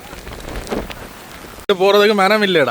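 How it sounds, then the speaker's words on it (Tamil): Heavy cyclone rain in Sri Lanka hisses steadily for a moment before a voice abruptly cuts in and talks loudly over it. "கடும் மழை ஒன்று வந்து"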